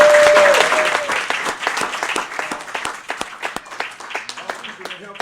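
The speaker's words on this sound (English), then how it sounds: "Mr. Sean Hughes, gotta give him a round of applause." Audience applause at a live Global 1000 Money Talk Monday event from NexCore, a dense burst of clapping that starts loud and thins into scattered claps, with the crowd cheering over it.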